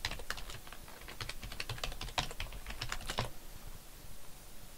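Rapid typing on a computer keyboard while coding JavaScript for a BBC Micro:bit, a dense run of close, crisp key clicks that thins out near the end, with no talking.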